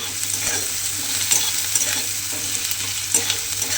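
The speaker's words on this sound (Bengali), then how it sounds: "পেঁয়াজটা দিয়ে কিন্তু প্রথমে একটু হালকা করে ভেজে নিতে হবে।" Chopped onions fry lightly in oil in a pan, giving a continuous close hiss and crackle with occasional scrapes and taps of a spatula being stirred through, with no voices.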